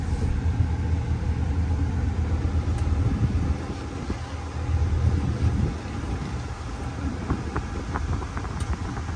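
A 2005 Chevrolet SSR's engine drones steadily from inside the cabin on a drive, with a dip and swell in rumble as the truck shifts gears and accelerates, air conditioning running.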